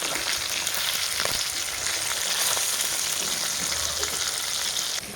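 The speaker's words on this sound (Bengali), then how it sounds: "মাছগুলো লাল লাল ভাজা হচ্ছে" Fish frying in hot oil in a home kitchen, giving a steady close crackling sizzle that runs unbroken, with no voices.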